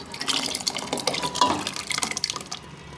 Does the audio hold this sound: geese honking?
no